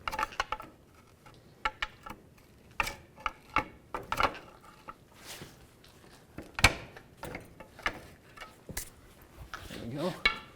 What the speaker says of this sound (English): from underneath with a pry bar, I'm going to pop the axle out of the transmission